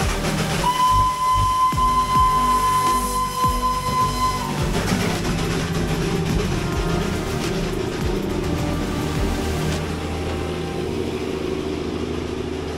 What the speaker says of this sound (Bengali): টয় ট্রেনটা এখনই আসবে আর তোমাদের দেখাবো টয় ট্রেন।